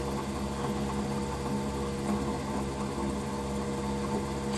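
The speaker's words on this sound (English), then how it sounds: "So you can hear the mill running in the background." A milling machine runs in a workshop where parts are machined for a stepper motor leadscrew drive, giving a steady, even mechanical hum with a constant tonal drone and no breaks.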